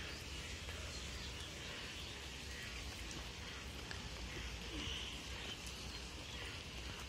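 Heavy rain pours down in Basti amid flooding, a dense, steady hiss that runs unbroken through the whole stretch, with faint bird calls in the distance.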